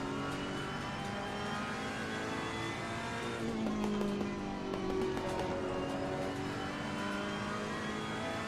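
Ferrari race car engine droning steadily through a lap of an Assetto Corsa Competizione endurance race at Barcelona, with sustained revving, shifting pitch and occasional tire noise, loud and continuous without talk.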